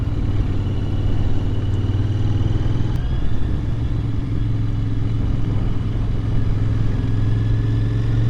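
A Royal Enfield Continental GT650 motorcycle cruises on a test ride, its engine a steady low rumble with wind noise and slight shifts in pitch, heard close and continuous.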